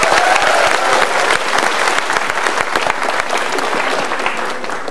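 A studio audience claps loudly and steadily for Mbak Tiwi, a woman guest at a motivational talk show, with dense continuous applause that tapers slightly toward the end.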